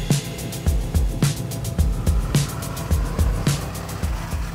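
A van driving slowly along a forest track, heard as a repeated bumping and rattling rhythm over a rumbling low engine and road noise, steady and close.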